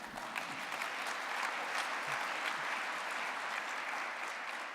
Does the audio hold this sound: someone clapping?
yes